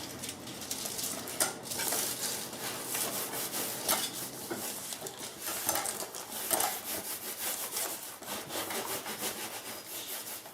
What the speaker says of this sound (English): I'm gonna put the glue on the aluminum foil on the dull side. And then I'm gonna stick it on.